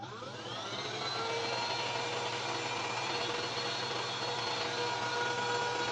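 An XREXS handheld cordless vacuum spins up and runs with a steady high-pitched motor whine and airy rush as it sucks up spilled sugar, close and loud, with no talking.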